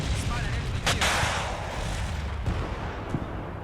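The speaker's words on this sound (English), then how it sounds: "missiles fly and hit" Missiles streaking and striking targets in the Cold War battle game Combat Mission Cold War: a loud whooshing rush and heavy impact blasts over rumbling noise, with a sharper crack near the end.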